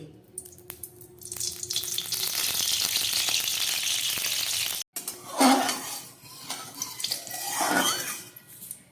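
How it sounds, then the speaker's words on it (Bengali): Oil heats in a wok (kadai) for cooking broccoli, giving a steady, loud, broadband sizzle that drops out briefly near the middle, then returns as uneven crackling bursts. No voices are heard. "বকলি রান্না করার জন্য আমি একটা কড়াই বসিয়ে দিয়েছি, কড়ার মধ্যে দিয়ে দিচ্ছি তেল।"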